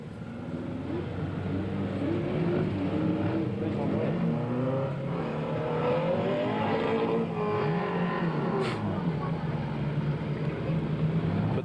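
Race cars circling Redline Raceway in 1993, a steady, loud roar of several engines running laps together, rising and falling as they pass, with an announcer talking over the noise.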